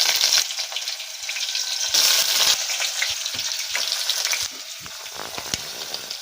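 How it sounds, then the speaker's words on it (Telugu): Onions frying in a pan, a bright crackling sizzle close by that swells each time they are stirred, with brief gaps and scraping movements, no voices. "ఉల్లిగడ్డలు వేసుకుంటున్నా"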